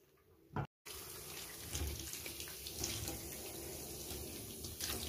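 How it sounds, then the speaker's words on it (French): A shower head running water in a bathroom, fitted with a green flow-limiting washer, gives a steady close spray after a brief silent gap at the start. "Je remets le pommeau en fonctionnement"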